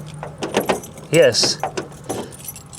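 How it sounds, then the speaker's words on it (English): A bunch of keys jingles and rattles close by at the door lock of a worn 1967 Chevy Camaro, brief metallic clinks mixed with a person talking. "The square key works the door locks and the ignition."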